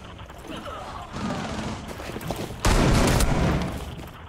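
Gunfire from the Warden operator in the shooter game Rainbow Six Siege, a dense loud burst of rapid shots bursting in after a stretch of quieter game noise, with a player's voice faintly underneath.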